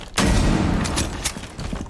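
Gunshots from Kali's lance rifle in Rainbow Six Siege, a loud close burst of several sharp cracks followed by mechanical clicks and handling noise.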